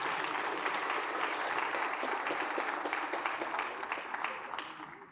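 A banquet crowd applauds an award recipient at a firefighters' awards event, steady dense clapping at moderate distance that thins slightly toward the end.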